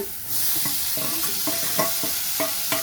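Masala spices roast in a hot pan for black urad dal, a steady sizzle under repeated close scrapes and taps of a stirring spoon at roughly even intervals.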